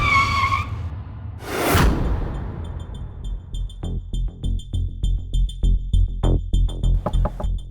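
A car braking hard with a sharp tire screech, followed by a run of short rhythmic thumps and clicks as it comes to a halt, loud and close with no voices.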